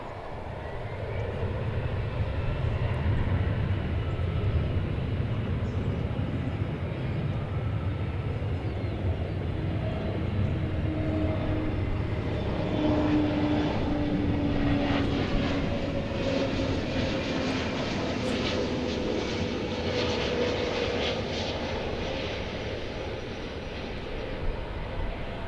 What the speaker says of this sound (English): we've got the flight from Los Cabos about ready to touch down.